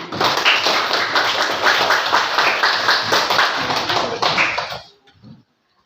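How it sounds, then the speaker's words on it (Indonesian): Students in a classroom clap their hands together in a loud, close, rhythmic burst lasting nearly five seconds, then stop abruptly, leaving a couple of faint taps and silence. "Tepuk tangannya."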